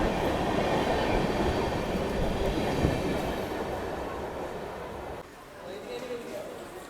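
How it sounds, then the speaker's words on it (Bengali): A train runs through Balasore railway station, a steady loud rumble of rail noise that holds for several seconds, then drops off and settles into a quieter hum. Voices can be heard under the noise. "এই মুহূর্তে এসে পৌঁছলাম বালাসোর রেলওয়ে স্টেশনে"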